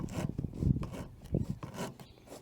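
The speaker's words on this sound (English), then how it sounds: "my hacksaw is failing me. It cut it off sideways." Hacksaw cutting through an RV roof plumbing vent pipe, a few rough rasping strokes up close, steady push-and-pull scrapes over a couple of seconds without speech.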